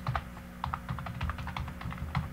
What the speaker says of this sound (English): and then you have to type your email again